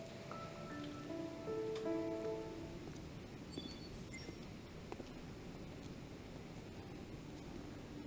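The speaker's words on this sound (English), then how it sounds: "It's raining really hard right now." Heavy rain in the video game Love and Deepspace hisses steadily as a broad wash of downpour, with a few faint chiming tones early on that fade into the constant rainfall.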